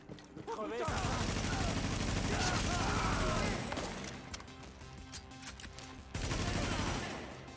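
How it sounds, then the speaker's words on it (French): Sustained, heavy gunfire erupts in a firefight in the video game The Division, with dense, continuous rattling bursts that briefly drop away before another loud volley starts. "Il y a du sniper, ouais."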